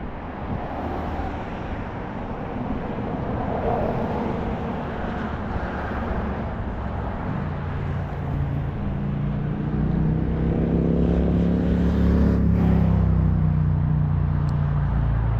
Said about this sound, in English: People are coming out of hibernation, riding motorcycles.